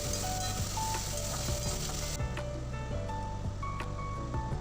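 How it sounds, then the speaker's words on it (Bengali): Spring onion greens and green chillies fry in hot oil for chilli chicken, giving a steady, close, loud sizzle with occasional stirring clicks and no talk. "এবার পেঁয়াজ পাতাগুলো দিয়ে ওর মধ্যেই ভেজে নেব।"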